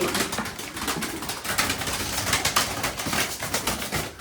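A male pigeon coos in low, rolling calls close by, repeating throughout over a rustling background of wings and movement.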